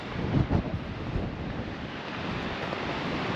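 Strong wind gusts over a coastal clifftop near the Cape of Good Hope, a loud rushing roar buffeting the microphone, with a deeper surge of waves beneath, steady and continuous with no talking.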